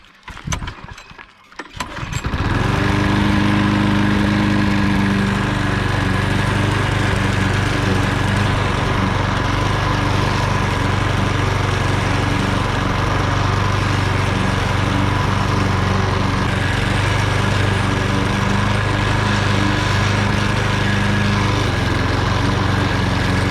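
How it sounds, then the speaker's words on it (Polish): A petrol lawn mower starts up and then runs steadily at full throttle while cutting grass, a loud, constant close engine drone with no talk over it. "zaczynajmy kosić trawę więc ja palę kosiarkę i zaczynamy"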